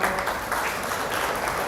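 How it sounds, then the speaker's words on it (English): An audience at a school inter-house general knowledge quiz competition applauds the contestants, a dense, steady wash of many hands clapping together for a short stretch. "Please give them a round of applause."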